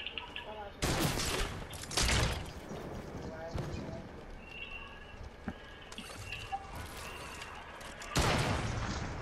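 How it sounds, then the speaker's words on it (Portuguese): Sharp gunshot bursts from the video game Fortnite, several loud cracks spaced a few seconds apart over quieter in-game ambience, with players chatting between shots. "Nossa, quem deu esse tiro aí?"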